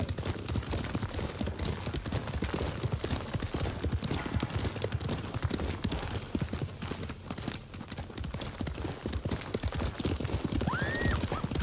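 A horse galloping in Ghost of Tsushima, with rapid, steady hoofbeats close by throughout and a short whinny near the end.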